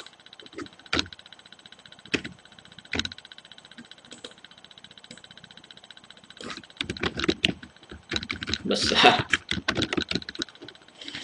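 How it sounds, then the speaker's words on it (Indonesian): Keys on a computer keyboard are struck in scattered single taps, then rapid clattering bursts, close and fairly loud, with a brief spoken word. "Tinggal tekan print screen saja di keyboard ya."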